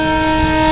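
A train horn at Rishikesh railway station sounds as a loud, sustained, steady blare that fills the whole brief moment, with rail rumble beneath it.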